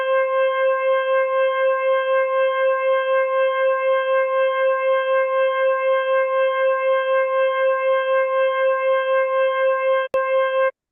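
A sonified light curve of an RR Lyrae star with the Blazhko effect plays as a loud, sustained harmonic tone that pulses in rapid, even beats, running alone for about ten seconds before a click ends it.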